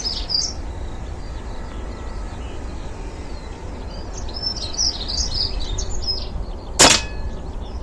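A single air rifle pellet shot strikes a target at close range, a sharp brief crack standing alone over steady outdoor background with faint birdsong.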